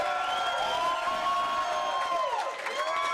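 A live crowd at a grappling event cheers and shouts steadily throughout, a dense wall of voices with rising whoops and sustained tones, dipping briefly near the end before swelling again.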